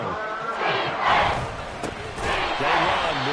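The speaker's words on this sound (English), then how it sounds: "This crowd turning up the decibel level." A football stadium crowd roars loudly, the din swelling in waves across a few seconds, with a commentator's voice mixed into the noise.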